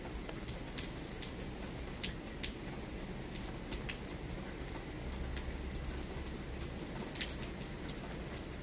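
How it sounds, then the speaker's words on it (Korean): Steady rain falls outdoors, a continuous patter with scattered sharper drops striking nearby surfaces, and a faint bird calling now and then in the background. "빗소리도 좀 들어보고, 그러면서 있어 본다."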